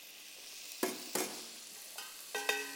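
Tomatoes sweat gently in a hot pan: a soft, quiet sizzle broken by a few sharp stirring clacks spaced irregularly, with no voices.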